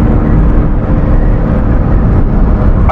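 A 1992 Honda Beat's small engine drones steadily and loudly from inside the car while driving, a dense continuous hum with a low, even tone and no clear rev changes.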